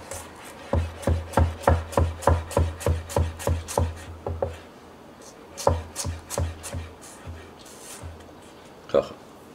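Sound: chopping vegetables with a knife

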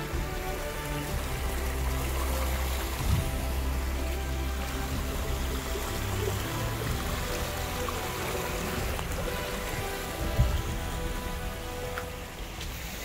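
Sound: waterfall rushing water

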